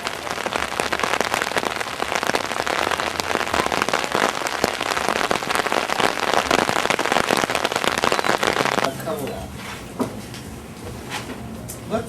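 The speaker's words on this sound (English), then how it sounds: "because of the rain" Heavy rain pelts down during a cold paddling outing, a dense, loud patter of drops on surfaces for about nine seconds before easing to a lighter, sparser drizzle.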